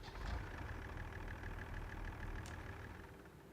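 A tractor engine idles in Farming Simulator 22, a steady low rumbling drone that stays even and close throughout with no talking.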